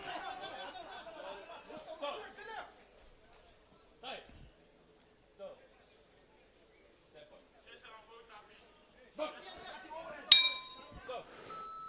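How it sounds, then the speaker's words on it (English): A boxing bell ends the final round of a 60kg men's bout at the IBA 2025 world championships, a single bright clang ringing out late over an arena murmur, after commentators talk. "there goes the bell"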